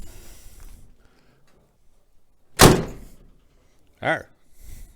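A welded car door with rebar added for support is swung shut, giving one loud, close slam followed moments later by a softer second thunk, with quiet noise before and after and no talking.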